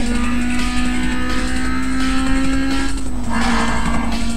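A car drifting in Need for Speed Most Wanted holds a loud, steady engine drone through a sustained slide, with tire noise swelling near the end.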